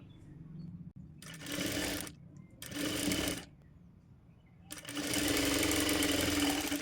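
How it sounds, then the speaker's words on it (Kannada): Sewing machine stitching blouse cloth for thread-work design, running in three loud bursts of rapid needle clatter separated by pauses, the last burst longest and steady, with no talk. "ಈ ಒಂದು ಕ್ಲೋತ್ ಮೇಲೆ ಸ್ಟಿಚ್ ಬೀಳಬೇಕು"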